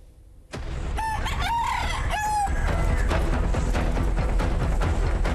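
Roosters from an illegal cockfighting ring in Gorontalo, seized by police, crow loudly three times in close succession, followed by continuous clucking and scuffling noise.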